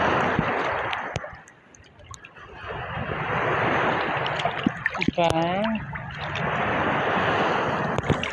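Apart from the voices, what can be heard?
big ocean waves at the sea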